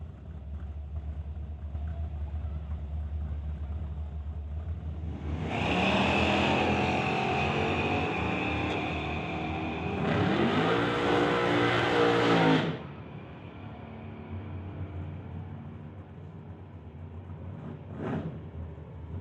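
An 89 Mustang and a 1987 S10 drag race in a street-legal event, the engines building from a steady background rumble into two loud, wide roaring launch passes that cut off sharply, with a brief sharp burst near the end.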